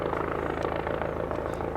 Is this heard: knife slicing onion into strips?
no